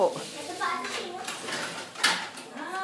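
Plates and other dishes clink and clatter while being washed by hand in a household in the Philippines, the sharp knocks arriving irregularly under close, steady talk from a child and adults.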